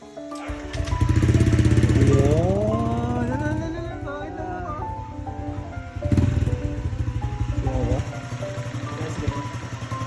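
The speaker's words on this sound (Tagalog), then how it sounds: "Kung ano ang tunog na ngayong tambutso." A Honda Click scooter's exhaust after a manual ECU reset, revving up and settling into a steady putter, then revved again with a brief rise, loud and close with a rough, pulsing idle throughout.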